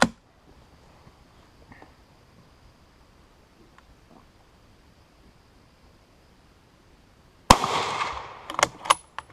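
A Krag-Jørgensen Model 1898 long rifle fires a .30-40 Krag round in a single sharp crack after a long quiet stretch, followed by a few brief echoing clatters, with no talking.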